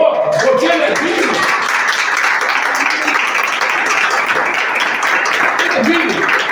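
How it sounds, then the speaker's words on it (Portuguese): Church congregation clapping in praise, loud sustained applause from a full crowd filling the room from start to finish, with cheering voices mixed in. "Vamos aplaudir ao Senhor, porque Ele é digno."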